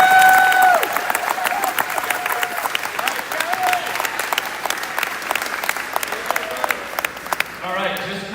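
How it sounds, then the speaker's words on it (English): Audience applause at a sports banquet, a dense, steady clatter of many hands clapping for about eight seconds, with faint speech over it early on and the clapping thinning out at the end. "So let's give them one more round of applause."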